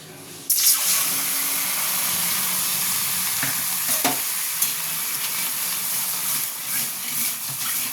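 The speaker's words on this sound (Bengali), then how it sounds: "আমি চিনির ক্যারামেল তৈরি করব।" Sugar and water heat in a pan to make caramel for a chana dal barfi, starting with a sudden loud hiss that settles into a steady close bubbling sizzle with a few faint clicks.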